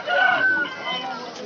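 A rooster crows at a busy chicken market, one clear call rising over the crowd, with people talking around it.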